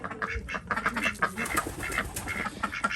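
Three ducks in a backyard pen quacking and chattering close by in overlapping bursts, steady and busy throughout with no talk.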